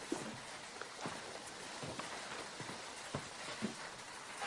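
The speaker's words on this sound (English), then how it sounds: "Dark and heavy and full of rain." Steady rain falls at night, a faint, even hiss with scattered soft drops landing on surfaces.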